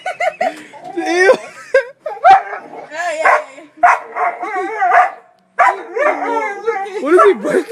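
A dog barks excitedly at a washing machine in a home, with repeated close yips and barks mixed with people laughing and talking.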